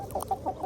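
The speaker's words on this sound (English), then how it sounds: "Dwayne and Edison's eggery began with just a handful of hens in a backyard" Hens on a small family farm cluck in short, repeated, close bursts, several soft calls in quick succession.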